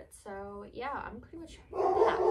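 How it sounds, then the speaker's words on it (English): A pet dog at home gives a few short yips and barks close to the microphone, with someone speaking just before them. "That's my dog."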